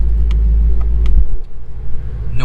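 A Ford Mustang Shelby GT350 sits with its engine rumbling in a deep, loud, steady low exhaust note close by, easing off briefly near the end, with no talk.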